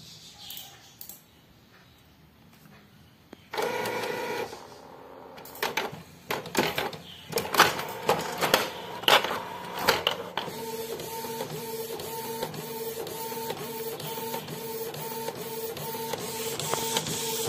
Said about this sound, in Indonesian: ini proses cetak di PET filmnya ya